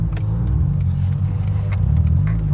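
A Mazda FD RX7 engine revs as the car drives, a steady, close low rumble and drone heard from inside with a few faint ticks over it.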